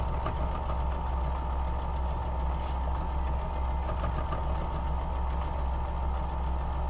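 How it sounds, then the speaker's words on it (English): Sewing machine stitching quilt block seams, a steady close mechanical run with a low rhythmic knock continuing without pause. "let's go ahead and sew these up"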